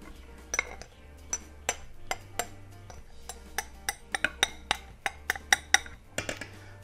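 A utensil scrapes and clinks against a bowl of gluten-free chocolate cookie batter as it is stirred, giving a string of sharp, close taps in an uneven rhythm over a quiet background.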